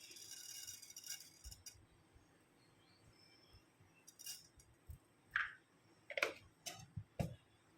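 Mustard seeds spluttering in hot coconut oil in a pan while tempering a Kerala cheera thoran: scattered sharp little pops, sparse at first and then quickening, quiet and close with no talking.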